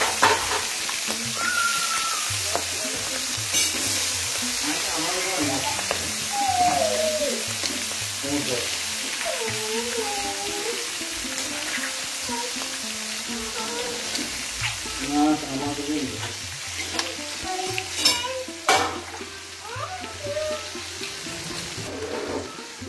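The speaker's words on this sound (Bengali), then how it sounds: "মাছগুলো আগে ভেজে নিব।" Fish frying in a pan in a rural home kitchen, giving a steady broad sizzle that runs the whole time with small crackles and faint background voices and household sounds.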